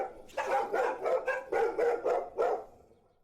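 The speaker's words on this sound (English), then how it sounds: "The dogs were now barking louder." Dogs bark in a quick burst of about seven loud, close barks in an uneven rhythm, fading out at the end, with no voices.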